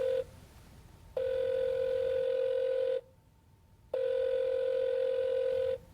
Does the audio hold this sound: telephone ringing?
yes